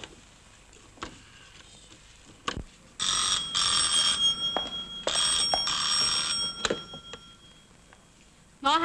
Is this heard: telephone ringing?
yes